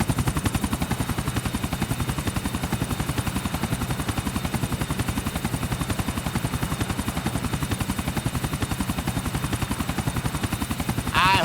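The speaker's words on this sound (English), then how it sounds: "It sure is great to be driving a chopper for fun rather than to mow down a village full of hostiles." A helicopter flies in the game GTA 4 Episodes from Liberty City, its rotor beating in a steady, fast, loud thump that runs unbroken throughout.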